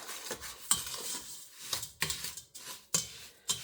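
Sugar and fudge mixture being stirred in a pot for homemade fudge, with a run of soft scraping, clinking spoon strokes and a few sharper knocks against the pan, fairly quiet and with no talking.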